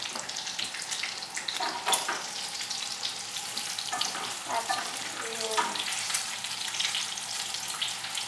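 Bacon sizzling steadily in a greasy pan for carbonara, with a continuous crackling hiss, occasional stirring clinks and a brief splash of running water in the background.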